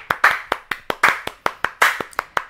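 A handful of students clap in sparse, irregular bursts, sharp slaps spaced unevenly and close by, with no one talking.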